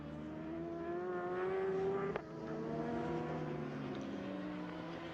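A Ducati Panigale superbike at the CIV Superbike round at Vallelunga screams out of a curve, its engine note rising steadily under hard acceleration, loud and close, with a sharp click partway through and the roar continuing after.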